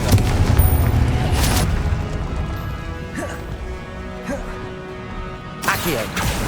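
Confringo blasting spell explosions in Hogwarts Legacy, loud crashing booms that open the clip, followed by quieter scattered impacts and a fresh burst of blasts near the end, within busy game sound.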